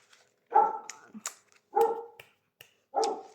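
Small dog barking in three short, sharp bursts spaced about a second apart, close and fairly loud indoors, with faint sounds between barks.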